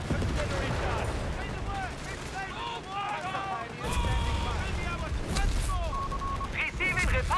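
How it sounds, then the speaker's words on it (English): Artillery barrage in the Company of Heroes 3 strategy game, Deutsches Afrikakorps match: a rapid run of loud gunfire and shell bursts, dense and continuous, with a sharper blast near the middle, all under ongoing narration. "Or better yet, just shoot a barrage on it."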